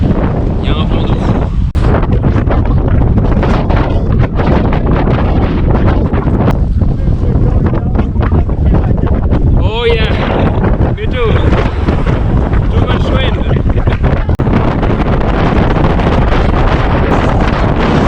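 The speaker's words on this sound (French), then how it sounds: "Il y a un vent de fou." Strong wind buffets the microphone in a constant roar while bikepacking in Europe, with gusty rumbles and faint voices briefly audible beneath it.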